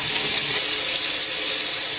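Running tap water pours steadily over a coffee maker filter being rinsed by hand, a continuous close hiss of water with no talking.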